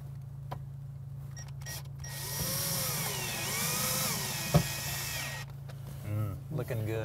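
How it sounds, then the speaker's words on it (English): A power drill drives stainless steel screws during an RV 12-volt DC system rebuild. The motor whines in a sustained burst that rises and falls, with clicks and brief talk before and after. "Got those stainless steel screws going again"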